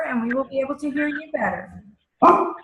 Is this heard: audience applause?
no